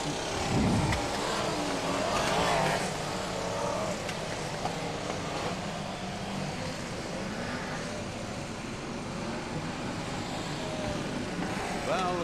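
BriSCA Formula 1 stock cars racing in a grand final on a wet track in horrendous conditions, a steady roar of engines passing with a commentator talking over the noise.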